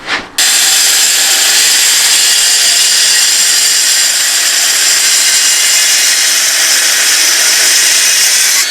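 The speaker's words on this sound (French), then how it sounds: "Soit je le coupe avec une scie circulaire." A circular saw screams loudly and steadily through laminate flooring after a brief spin-up, a harsh continuous cutting whine with no pauses.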